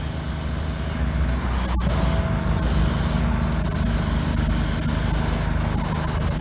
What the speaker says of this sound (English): Finish spraying the inside.